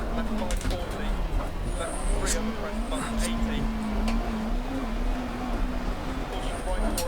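Rally car engine in DiRT Rally on a Swedish snow stage, a steady droning note with shifting pitch as the car slides, with faint skid and gravel noise and a few brief crackles over a constant low rumble.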